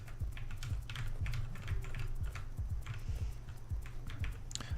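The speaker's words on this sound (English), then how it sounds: "Although I've heard some people like the mechanical keyboard sound." Rapid clicking keystrokes on a mechanical keyboard, quiet and close, arriving in irregular bursts of taps with no talking.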